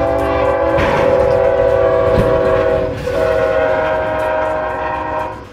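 A train's horn blares loud and steady, close by, over the heavy rumble of the passing train, moments before it collides with a truck.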